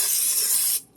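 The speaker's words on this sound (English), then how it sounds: "you're going to spray" A short, close hiss of cooking spray from an aerosol can into a Dutch oven, cutting off abruptly after under a second.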